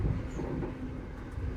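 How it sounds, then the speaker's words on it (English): A steady low rumble from inside a train climbing into snowy Scandinavian mountains, the engine laboring with a continuous heavy drone and faint rail clatter, fairly quiet and unbroken. "The train is really climbing now, I can feel it. The engine working harder"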